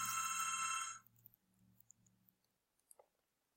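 A telephone rings with a dense electronic trill for about a second, then cuts off, leaving faint low hum and scattered small clicks in a quiet room.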